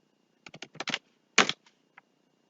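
Several quick keystrokes tapped on a computer keyboard while entering a command, a short cluster of light clicks followed by a firmer press and one last faint tap, close and quiet with no voices.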